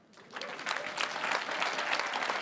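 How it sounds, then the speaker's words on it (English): An audience applauding, the clapping swelling quickly into a dense, steady roar of many hands. "Why are you guys applauding that?"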